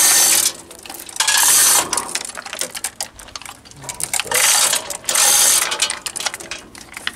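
A ratchet wrench unbolting car parts during a stroker V6 engine build, heard as loud bursts of rapid clicking ratcheting with quieter, intermittent clicks between them, close by and with no talk.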